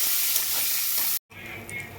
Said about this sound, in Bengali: এবার বেগুনটা আমি ভেজে নেব